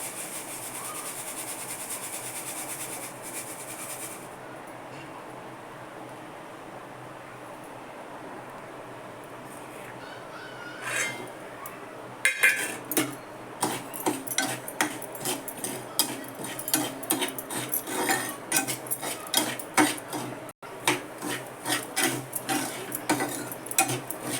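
Soaked chickpeas roasting in hot salt in a kadhai, starting as a soft low rub before turning into a dense, rapid rattle of close scrapes and ticking clatter as they are stirred, with no talking.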